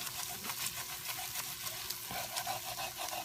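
Onions caramelizing in a pan for French onion soup, stirred and scraped with a utensil, giving a soft continuous sizzle broken by light scraping strokes, fairly quiet.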